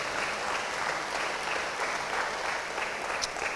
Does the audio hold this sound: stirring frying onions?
no